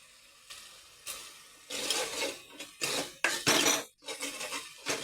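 Ginger garlic paste sizzles in hot oil in a pan while a spoon stirs and scrapes against the metal in loud, irregular bursts between quieter pauses.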